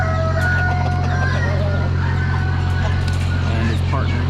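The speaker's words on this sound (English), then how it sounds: "A little frustrated rooster" Frustrated rooster crowing amid a busy Amish spring animal auction, a few scratchy crows over constant poultry clucking, crowd chatter and steady low hum, with someone talking nearby.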